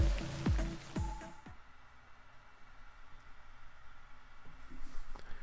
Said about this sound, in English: The liquid gets scattered about with a squirting sound as washed off in the rain.